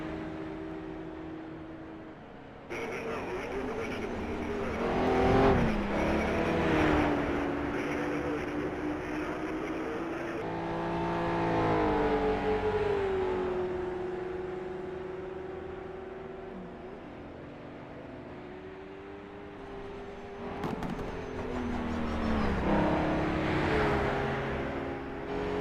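Racing video game cars in a Belfast Tourist Trophy challenge round, including a 1.5-liter OSA, overtaking with continuous engine whine and rising, falling revs as cars pass close by.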